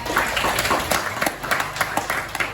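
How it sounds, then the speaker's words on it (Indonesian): A small group claps with loose, uneven rhythm, individual hand claps distinct and fairly close. "tepuk tangan buat kita."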